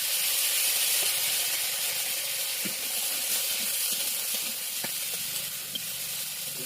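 Potatoes and bitter gourd fry in a little oil, producing a soft, even hiss with faint scattered clicks from the pan and no voices.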